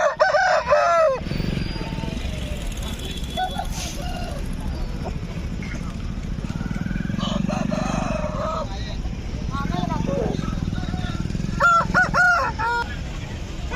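A rooster at the Gudur poultry market crows loudly and close at the start and again near the end, with more clucking and crowing in between. People talk throughout, and a motorcycle engine rumbles in the background.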